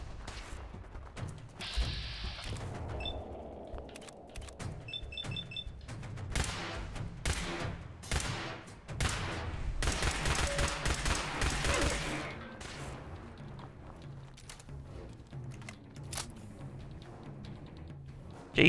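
Rapid bursts of Institute pistol fire in Fallout 4 survival combat, many sharp repeated shots in clusters over about eighteen seconds, loud and close with chaotic impacts and crashes between volleys.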